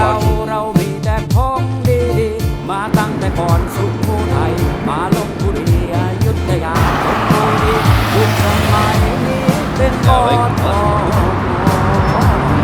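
Scooter engines buzz and rev in busy Thai traffic, loud and close, with rising and falling pitches from passing motor vehicles and voices in the mix.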